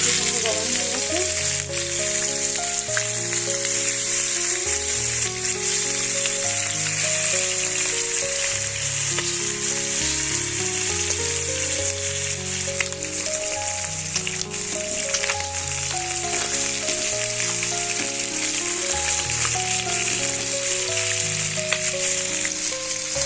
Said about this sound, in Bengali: মাছটা আমি এক সাইড হয়ে গেছে তো একটু উঠে দিয়েছি আর এক সাইড ভালো করে ভাজা করে নেবো লাল লাল করে